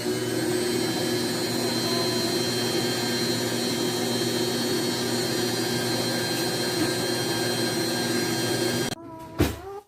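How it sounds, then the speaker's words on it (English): An electric mixer whirs steadily, blending grain-free pancake batter with melted coconut oil. The motor drones loud and constant for several seconds, then cuts off abruptly with a few clunks. "It always helps when you plug your mixer in."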